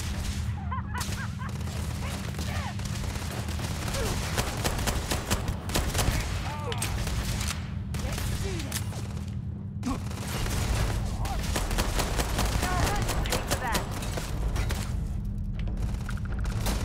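Gunfire rattles through a Starfield gameplay firefight, with dense rapid shots and mechanical clatter continuing almost without break over a steady low hum.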